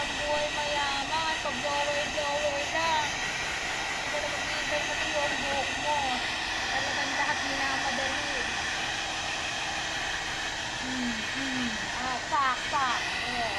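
A hair dryer blows with a continuous airy roar after a shower in a Makati staycation hotel room, steady throughout with faint background sounds on top.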